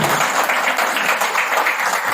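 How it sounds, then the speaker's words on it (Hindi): Loud, close applause from a seminar group, many hands clapping rapidly in a dense continuous burst with no voices. "जोरदार ताली हो जाए"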